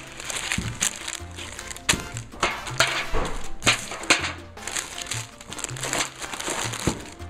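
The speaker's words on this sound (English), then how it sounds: "I'm going to go ahead and use the parchment paper." Parchment paper crinkles and rustles as it is handled during baking prep for fish. The sound comes up close in bursts of crisp crackling, with short sharp snaps between the softer rustles.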